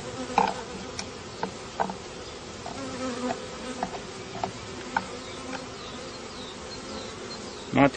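Honeybees hum in a dense, continuous buzz over an open beehive during comb and hive work, with occasional louder individual bees passing close and faint knocks from handling the frames.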